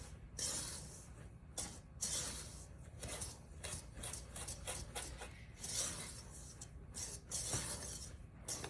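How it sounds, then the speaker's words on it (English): A flat whisk scrapes and stirs dry hot cocoa mix in a bowl, giving a quiet, steady, gritty rubbing rhythm with no talking. "I'm using a flat whisk just to get it all really mixed well."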